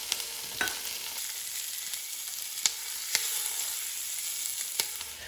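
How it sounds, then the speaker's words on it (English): Onions and poblano peppers cook down in a soup pot on a stovetop, giving a steady soft sizzle with a few sharp stirring clinks, heard alone. "the onions and the poblanos are cooking down"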